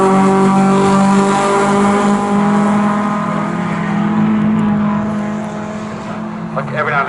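Several MG Metro race cars roar down the Snetterton back straight at a race meeting, a loud sustained droning engine chorus that slowly fades, with commentators talking over it.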